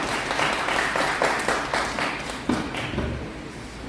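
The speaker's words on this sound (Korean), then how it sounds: "큰 박수로 맞아주십시오" An audience at an outdoor press conference in Seoul applauds, a dense, continuous clapping from a crowd that rises, then gradually thins out.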